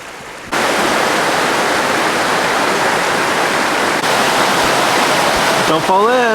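Steady roar of a nearby waterfall beside a mountain trail in the Washington section of the Pacific Crest Trail, loud, continuous rushing water filling the whole clip, with a brief whistle-like tone near the end.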